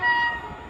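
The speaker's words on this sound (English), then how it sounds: "Oh, with a train that's about to fly by." A British Rail Class 350 electric train at Watford Junction on the West Coast Main Line, a brief loud burst of rushing train noise with steady tonal whine, fading quickly.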